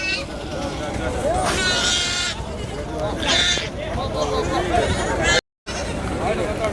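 Goat kids bleating at a rural goat market in Tirupattur district, several high bleats rising over a busy crowd of chatter and talk close by.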